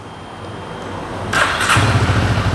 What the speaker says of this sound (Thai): คันนี้คงเป็นท่อเดิมนะ ฮะเดี๋ยวฟังเสียงท่อคันนี้กัน